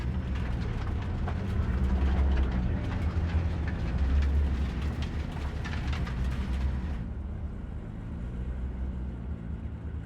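A train rumbles through Cyberpunk 2077, a loud, steady low roar with rattling and clatter that eases off toward the end, with no talk.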